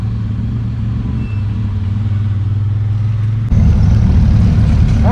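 A loud off-road vehicle engine rumbles steadily at an off-road event, then surges louder as it revs near the end, close and continuous with no talk.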